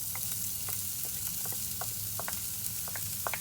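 The white part of a green onion fries in oil in a pan, giving a steady, bright hissing sizzle with scattered crackles and light stirring taps, close and continuous.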